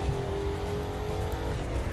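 A car in The Crew 2 racing game driving down a winding serpentine road in snow, engine humming steadily at moderate volume with a constant droning tone, no voices.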